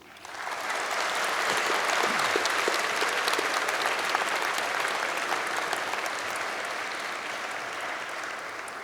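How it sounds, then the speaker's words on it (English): Students at a university graduation ceremony break into a round of applause, the clapping swelling quickly and holding as a broad, even roar before easing slightly toward the end. "I think you all deserve a round of applause from the students"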